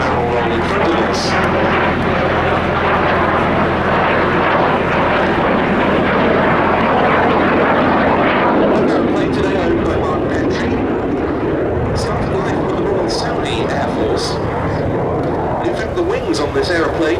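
A BAC Strikemaster jet performs a barrel roll at a Duxford airshow, its engine roaring loudly and continuously, with the pitch shifting as it swoops past.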